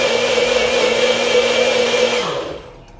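A Magic Bullet blender whirs loudly as it blends ingredients with water, a sustained high motor whine up close that winds down and stops after a couple of seconds.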